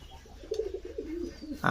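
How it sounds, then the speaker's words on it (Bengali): Pigeons being fed indoors in a house, cooing close by in a soft, rolling, low call that repeats through the moment, ending with a short sharp noise. "কবুতরের খেতে দিচ্ছি তো এদের আজকে ঘরে চলে এসছে"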